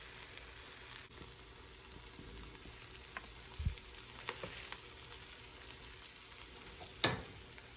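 A keto cheeseburger patty being reheated in a pan sizzles quietly and steadily at moderate heat, with a few sharp clinks and scrapes breaking through the soft frying hiss.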